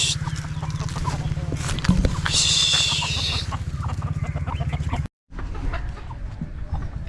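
Aseel chickens cluck and a red rooster calls around a farmyard, a dense stream of clucking under a voice, with a harsher squawking burst near the middle and a brief drop to silence.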